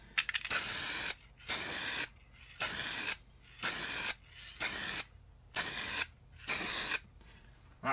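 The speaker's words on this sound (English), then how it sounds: "I'll give you one spray." Spray paint hissing from an aerosol can in seven short, even bursts, each about half a second long with brief pauses between, close and clear with no talk.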